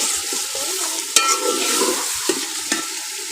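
Chicken, potatoes and peas frying in a kadai while a spoon stirs them steadily, with a continuous sizzle and a few sharper scrapes of the spoon against the pan.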